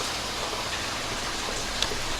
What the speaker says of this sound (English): Look how it's raining.